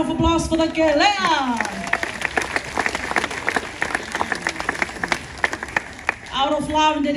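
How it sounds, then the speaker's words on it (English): A crowd in the Tonga Village at the Polynesian Cultural Center claps steadily for several seconds after a kele'a conch performance, with short sustained tones before and after the burst of applause. "Have a round of applause for the kele'a."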